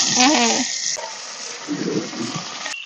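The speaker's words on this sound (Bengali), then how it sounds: "ভাজার জন্য মাছ দিয়ে দিচ্ছি তেলের উপর" Fish pieces hit hot oil in a pan, setting off a loud, continuous broadband sizzle that stays close and steady throughout.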